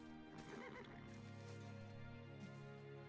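Horse whinny from the Civilization V strategy game, a single loud, clear neigh with a rising then falling whinny, close and prominent over a faint game music bed.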